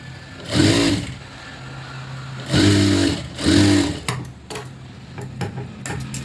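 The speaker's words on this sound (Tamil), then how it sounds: "இப்போ இதுலேயுமே இந்த டபுள் ஸ்டிச்சாக போட்டு எடுத்துடலாம்." A sewing machine runs a double stitch along a blouse sleeve in three close bursts of fast, whirring needle action, separated by short pauses. Light clicks and handling sounds follow the last burst.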